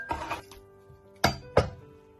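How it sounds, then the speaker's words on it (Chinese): Chopped raw chicken pieces are dropped into a large clean basin. A soft rustling shuffle comes first, then two distinct close thuds land in quick succession in a quiet room. "把它放入一个干净的大盆中，"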